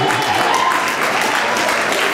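An audience claps loudly and steadily, a dense, continuous burst of applause heard close by for a couple of seconds.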